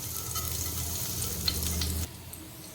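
Cumin seeds sizzle and crackle in hot mustard oil for a chana masala, a loud, steady frying hiss with small pops that drops off sharply near the end, no voices.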